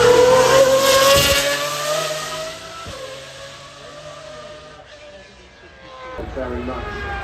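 A Porsche track-only hypercar at the Goodwood Festival of Speed revs toward 9,000 RPM, a loud rising engine scream that fades as it passes into the distance, then swells again, with crowd noise around.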